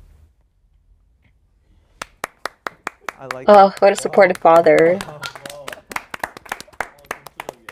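Crowd claps in a sharp, rhythmic beat, steady hand claps continuing while people talk over them in a lively reaction setting.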